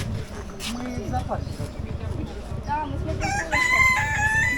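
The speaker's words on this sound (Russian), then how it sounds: "А вот пошли куры." Rooster crowing and hens clucking at a rural farmstead, a drawn-out crow rising near the end over a busy mix of poultry calls, with people talking nearby.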